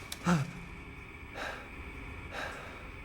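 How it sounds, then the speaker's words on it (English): Heavy, slow breaths from a character in the video game Resident Evil Village rise and fall a few times, a sharp gasp at the start followed by two longer exhalations, close and quiet. "Take Ethan's super heavy breathing."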